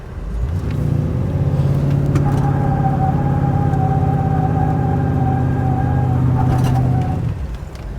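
Full-size Chevrolet Suburban doing a brakes-held, floored-throttle burnout: a loud, sustained engine roar with steady high-pitched tire squeal layered on top, holding for about seven seconds before dropping off sharply.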